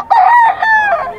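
A rooster crows at the Bocaue pet market: one loud, close, drawn-out cock-a-doodle-doo in several rising and falling parts, heard alone.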